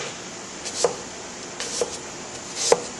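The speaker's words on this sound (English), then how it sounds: "you're going to cut very, very, very thin slices" A knife cuts very thin apple slices on a board, three soft crisp chops spaced about a second apart, close and quiet in an otherwise still kitchen.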